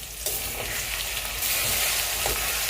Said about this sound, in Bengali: পেঁয়াজটা ভাজা শেষ এবার সব মশলাগুলো দিয়ে দিচ্ছে